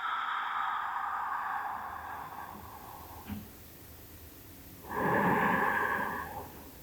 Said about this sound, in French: Prends 3 grandes respirations.